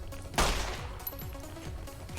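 Gunfire from weapons in Fallout: New Vegas, with one loud sharp burst near the start followed by a run of quieter, repeated shots trailing off over a steady game background.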